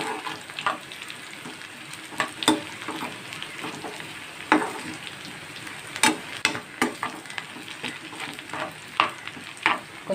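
Bitter gourd stir-frying in a pan, a continuous close sizzle with irregular sharp clicks and scrapes of a spatula stirring, no talking.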